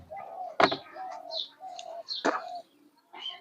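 Pet pigeons cooing in soft, repeated low calls with a few sharper chirps and knocks between, close and fairly quiet, with pauses between phrases.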